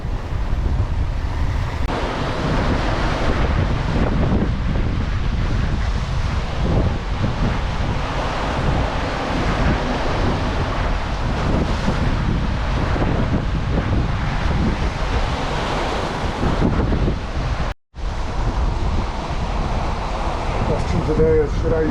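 Wind and heavy ocean swells of around ten feet surge around a sailboat running fast at sea with the main nearly centered, making a loud, continuous rushing roar of wind buffeting and wave wash, briefly cut out near the end.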